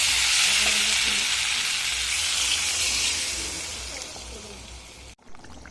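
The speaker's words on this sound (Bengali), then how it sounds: "আমি এবার দিয়ে দেবো এর মধ্যে জল" Water poured over fried spice paste for alur dom sets off a loud, steady broadband sizzle that holds for several seconds, then fades and cuts off near the end, with no one talking.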